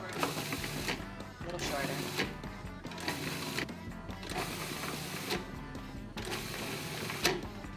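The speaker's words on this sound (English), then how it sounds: "we're going to chop up all of these ingredients with 5 1-second pulses" A food processor with its lid locked chops ingredients for a pan-seared chicken dish in five short one-second pulses, a loud whirring burst repeating in rhythm with brief gaps, with a voice speaking briefly.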